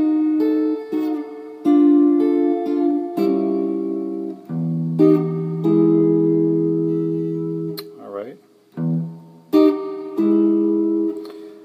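An electric guitar plays a blues turnaround lick: a run of clean, close picked notes and double-stops with string bends and a slide, ending on a held low chord.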